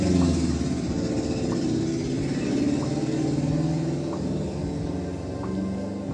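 Steady road traffic with car engines passing by outdoors, a continuous mid-level rumble and whir that stays constant throughout.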